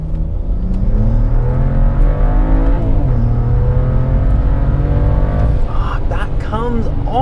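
BMW N54 335i with a Chinese 17T hybrid turbo pulling hard from inside the car: loud, continuous engine roar climbing in pitch through the gears with a brief shift dip, and a voice talks over it.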